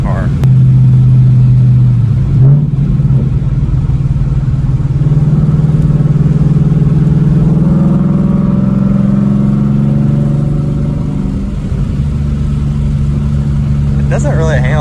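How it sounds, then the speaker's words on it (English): A loud third-generation Ford Mustang GT V8 engine rumbles and revs, rising in pitch through the middle before settling back to a deep idle, with a voice briefly heard over it. "Rev match really quick. I just want to hear it."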